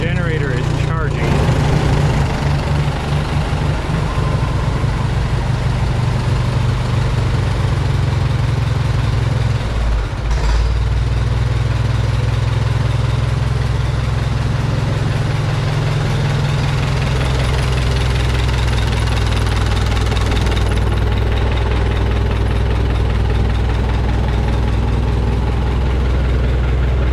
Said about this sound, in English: Sounds like a little exhaust leak